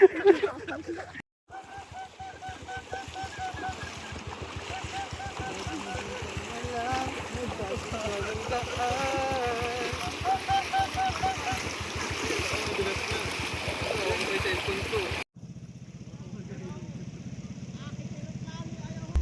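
Water rushes and splashes steadily as a river is crossed on a ride, a continuous churning flow up close, cutting off abruptly near the end.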